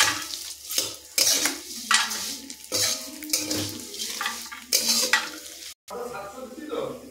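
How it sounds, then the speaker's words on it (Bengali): Vermicelli frying in ghee in a pan, stirred steadily with a utensil that scrapes and clinks against the metal over a continuous close sizzle. "তো সিমাইগুলোকেও ভালো করে ঘিয়ে ভেজে নেব।"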